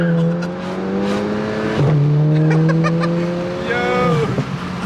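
A Stage 2 Volkswagen Mk7 GTI revs hard from inside the car, pulling up through the gears with a shift break midway, the engine note loud and close and rising steadily in pitch.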